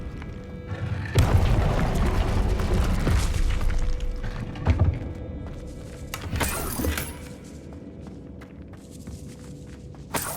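Fire spell cast in Hogwarts Legacy at the Korrow Ruins: a loud burst with crackling debris, a second impact a few seconds later, then fading rumble.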